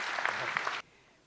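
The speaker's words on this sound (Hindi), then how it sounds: "आप इस बार जोरदार तालियां बजाएं।" Audience clapping at a Hindi kavi sammelan, an evening poetry gathering, comes as a brief burst of crisp applause with a few sharp individual claps, then cuts off abruptly to near silence.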